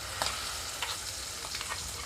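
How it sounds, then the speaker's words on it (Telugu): Ground masala paste hitting hot oil with turmeric for a potato and broad bean curry, giving a steady close sizzle and crackle with a few sharper spits, alone with no talking. "ఇక్కడ గ్రైండ్ చేసిన ముద్ద మసాలా ముద్ద అంతా కూడా ఆయిల్లోకి వేస్తున్నాను"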